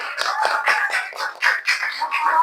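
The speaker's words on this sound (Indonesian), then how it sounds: "Tepuk tangan." A class of fifth-grade pupils claps hands for a group presenting pempek, a Palembang dish, with dense irregular clapping running steadily throughout, fairly close and lively.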